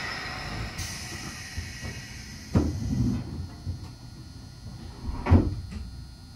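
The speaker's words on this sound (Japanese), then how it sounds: "閉まるドアにご注意ください。" Doors thud shut on a Nagano Electric Railway limited express train, two dull knocks a few seconds apart inside the carriage over a steady low hum.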